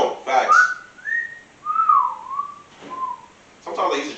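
A person whistles a bright, sliding melody in several rising and falling phrases, close and clear, with short bursts of speech at the start and end.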